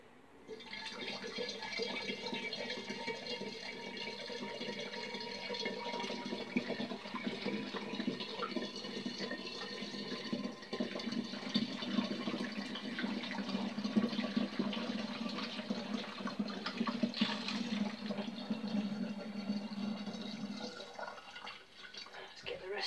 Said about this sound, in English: Let's get the rest of this cold water in that's boiled.